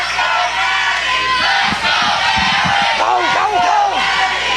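A packed wrestling crowd at the CWF Rumble yells and cheers loudly, with overlapping chants and shouts building into rising whoops near the end.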